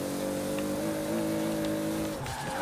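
An 1100-horsepower Toyota Supra drift build in Forza Horizon 4 holds a loud sustained engine and turbo drone with tire squeal, the pitch steady, then dropping and breaking up near the end.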